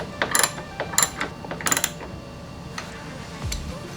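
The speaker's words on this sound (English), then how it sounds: "You just have to go under here and tighten the screw underneath." A screw is tightened under a Tesla Model Y's A-Premium mud flap, giving a few close metallic ratcheting clicks and small taps in short bursts, then a faint low thud, with no voices.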